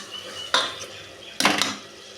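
A spoon stirs tomato and onion masala in a pan, making two short scraping, clattering strokes against the metal over a quiet background.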